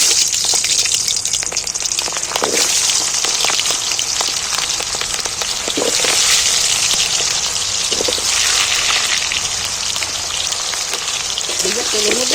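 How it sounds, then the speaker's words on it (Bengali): Whole onions dropped into hot oil with cloves and cardamom while making chicken, giving a loud, steady, close sizzle and crackle that never lets up. "এইবার আমি গোটা পেঁয়াজগুলো তেলের মধ্যে তুলে দিচ্ছি"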